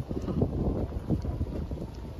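Steady wind buffeting the microphone on a hot afternoon, a low rumbling roar with gusty swells and no voices.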